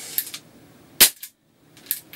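An Umarex Walther PPQ air pistol fitted with a silencer adapter fires in a test. A loud, sharp crack lands mid-clip, framed by two fainter pops before and after, with quiet gaps in between.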